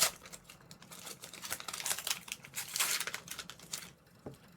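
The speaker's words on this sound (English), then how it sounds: "That's the weirdest way I've ever opened a pack" Crinkling and tearing of the foil wrapper on a pack of Topps Premier League cards, a close, busy run of rustles and crackles lasting a few seconds before tapering off.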